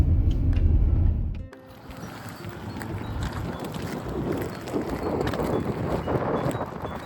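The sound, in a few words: cold wind blowing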